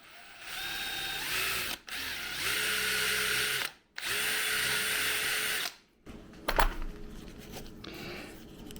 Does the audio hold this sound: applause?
no